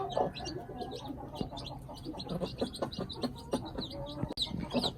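Newly hatched Aseel chicks feed at close range, filling the air with a busy, continuous mix of soft peeps, chirps and clucking sounds.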